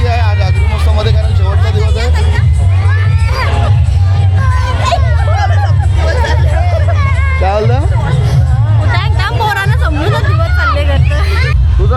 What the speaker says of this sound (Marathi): तुम्ही माझ्या मागे बघू शकता खूपच गर्दी